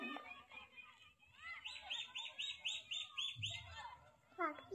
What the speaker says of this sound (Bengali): এমনি করে কি পাখি ডাকছে?